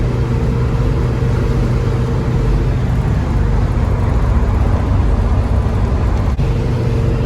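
A 1966 Buick Wildcat with a new radiator runs steadily while warming up, its engine giving a loud, constant, close rumble with no pauses.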